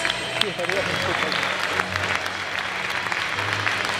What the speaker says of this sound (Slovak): Veľký potlesk ešte raz.